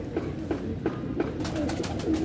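Pigeons coo in a loft, a run of soft repeated low calls in a steady rhythm, close and fairly loud, with no talking.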